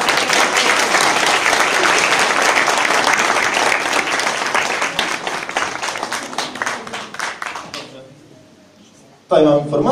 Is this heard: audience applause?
yes